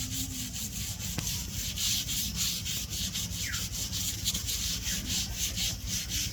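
Continuous close rubbing and scraping as the white part is scraped off during preparation of a pangas fish curry with bottle gourd shoots, a steady gritty rasp with no pauses.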